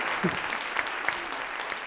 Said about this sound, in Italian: Applauso, applauso.